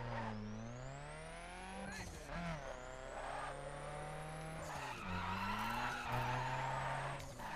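A Fiat Abarth slides through drifts in The Crew, its engine wailing at high revs with long tire squeals, pitch dipping and rising across several slides, loud and continuous.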